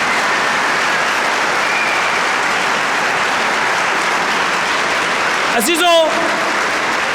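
A congregation at an Easter Vigil Mass applauds steadily and loudly throughout, with a voice calling out briefly over the clapping near the end.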